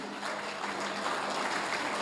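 An audience claps steadily at a May Day oration, a dense, even patter of many hands with no voices heard.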